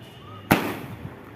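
A single sharp Diwali firecracker blast bursts out suddenly after a quiet moment, followed by a short fading rumble and a faint second pop.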